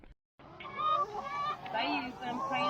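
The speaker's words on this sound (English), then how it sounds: "Just got out here with the chickens, let them out of their coop there." Backyard chickens just let out of their coop make a busy run of clucks, squawks and rising calls, fairly close and continuous after a brief silent gap.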